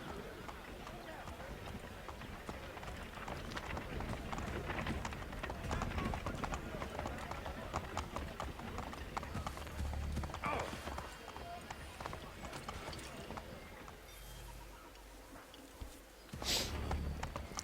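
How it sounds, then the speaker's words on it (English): Horse hooves clip-clop at a running pace in Assassin's Creed 3, a busy stream of hoofbeats under game ambience, with a brief snort or whinny and a sharp burst near the end while a person talks over it. "Horses."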